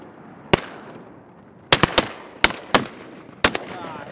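Shotgun blasts at ducks on a guided Tennessee duck hunt, six loud sharp reports, one alone then several in quick clusters, close and echoing outdoors.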